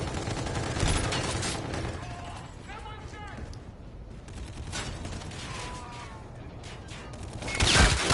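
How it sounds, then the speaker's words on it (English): Gunfire in the video game Call of Duty: Infinite Warfare crackles in scattered bursts and sharp shots amid mechanical clatter, with a louder blast near the end, while a player talks over it. "Who's shooting at me?"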